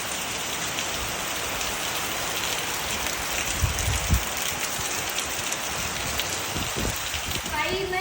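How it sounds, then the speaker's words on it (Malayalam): Heavy rain pours down outdoors in a continuous, dense hiss with pattering drops, steady and fairly loud from start to finish. "നേരിട്ട് നല്ല മഴയുണ്ട്, വീഡിയോയിൽ അത്ര കാണുന്നില്ല."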